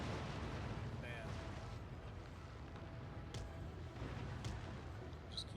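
Cannon and artillery fire in the naval battle game Empire Total War: a dense, continuous rumble of distant booming gunfire with a few sharper reports, under a faint voice.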